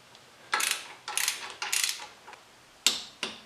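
A ratcheting torque wrench clicks in short, sharp bursts while tightening bolts on a power steering pump in a Jeep CJ7 with an AMC 258 engine, five separate clicking runs spaced by brief pauses, close and clear.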